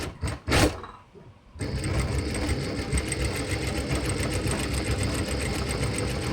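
A sewing machine runs in a fast, steady rattling stitch while reverse-stitching ladies' pants, loud and close, after a brief burst of thumps and a pause at the start.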